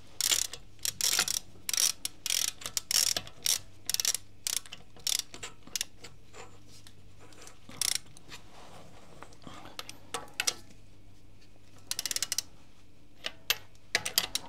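Rapid bursts of ratchet clicks, close and fairly loud, as a wrench tightens the five lug nuts on a Tesla wheel in a cross pattern, with short pauses between each run of clicking.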